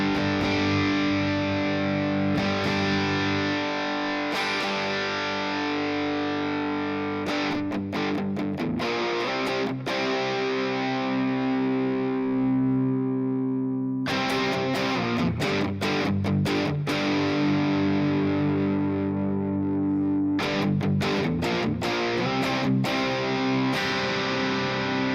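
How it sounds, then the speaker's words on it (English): Distorted electric guitar played through a Soldano amp with an impulse-response cabinet, its low cut gradually raised; sustained heavy chords and riffs with brief pauses, loud and close, no talking. "I'm going to bring up the low cut real slow."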